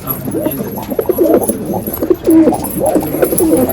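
Pigeons coo loudly and close by in a loft, with repeated soft throaty calls that overlap in a steady run, and a little background noise alongside.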